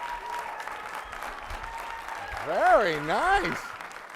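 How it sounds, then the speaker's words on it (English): Studio audience clapping during a late-night comedy talk show, a steady crowd wash under a host speaking, with a loud vocal exclamation rising near the end. "We're clapping for you"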